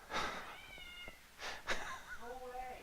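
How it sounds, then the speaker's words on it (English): A pet cat meows repeatedly in a home kitchen, several drawn-out, rising and falling cries close by, with a short break between bursts and faint background sounds around them. "Can you stop arguing with the cat?"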